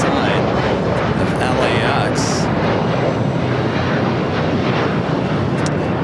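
A Qantas Dreamliner airliner at LAX produces a loud, steady engine roar that fills the whole stretch, close and unbroken, with brief higher whines passing early on.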